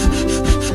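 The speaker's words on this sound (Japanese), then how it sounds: "まずは表面を磨いていきます。" Walnut wood rubbed by hand with sandpaper on its top surface, a close, loud scratchy rasp in steady strokes, with two short heavier pulses.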